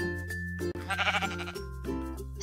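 Sheep bleating in Minecraft, a few short repeated bleats standing out near the listener over a steady drone of game music and ambience, with no talk.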